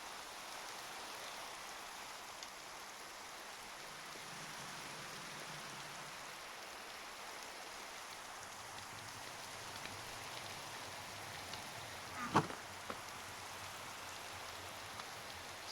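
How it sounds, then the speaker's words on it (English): Rain falls in the Primal Magick Minecraft modpack as a soft, steady hiss of drops. It is faint and distant, with one brief sharper tick partway through. "We'll go ahead and sleep the rain away."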